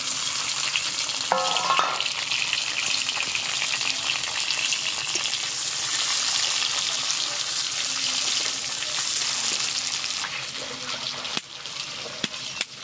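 Peeled hard-boiled eggs frying in a pan of hot oil, a steady dense sizzle running throughout at close range, with brief clatters of stirring and no talk.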